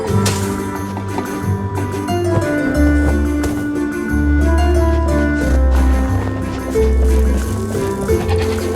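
A goat bleats in the video game Trine 4, mixed in with steady, prominent game music and some hoof-like clopping throughout.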